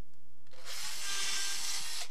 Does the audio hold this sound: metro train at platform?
no